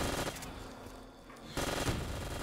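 Gunfire from the Call of Duty zombies map Der Riese Declassified, short bursts of rapid shots at the start and again after a brief lull, loud and close with no talk.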